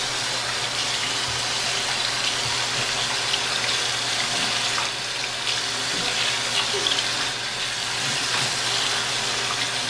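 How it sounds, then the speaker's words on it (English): A tap runs steadily into a sink while someone rinses their mouth, a continuous close hiss and splash of water with faint bathroom background and no speech. "Rinse your mouth off."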